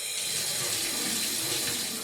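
Tap water pours in a steady, close, hissing stream while eggs soaked in thickener are washed, continuous and unbroken with no talking.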